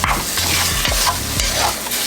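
Elk meat sizzles and fries as it browns in a pan, a loud continuous crackle with spatula scrapes and stirring strokes at a steady rhythm, close up. Nobody speaks.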